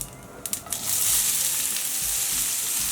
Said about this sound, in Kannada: ಸಾಸಿವೆ ಜೀರಿಗೆ ಎಲ್ಲ ಹುರ್ಕೊಂಡಿದೆ, ಚಟಪಟ ಅಂತ ಇದೆ.